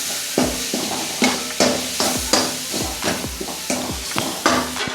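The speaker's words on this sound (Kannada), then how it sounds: "ಸ್ವಲ್ಪ ಉಪ್ಪು ಚಂದ ಫ್ರೈ ಮಾಡಬೇಕು ಇನ್ನೊಮ್ಮೆ." Dry prawn masala with salt stir-fried in a pan: repeated scraping strokes of a spatula in a steady rhythm over a low sizzle, close and moderately loud, with no talking.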